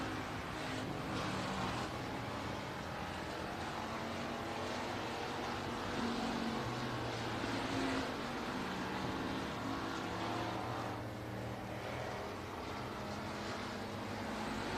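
Several USRA factory stock race cars roar around a dirt oval during a heat race, a steady dense engine drone with rising and falling whines as the pack passes, loud and continuous throughout.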